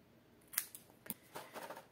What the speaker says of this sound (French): Donc, je vais déjà couper à la taille. Donc, je vais couper jusqu'ici.